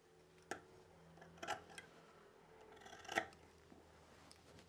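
Scissors snip corner notches into dog harness fabric, about four quiet, sharp cuts spaced irregularly over a faint background.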